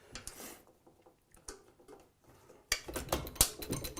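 Small metal thumb screws being threaded onto the linkage of a MEC 9000E shotshell reloader, quiet scattered clicks and rattles that grow into louder, busier metallic ticking and clatter near the end.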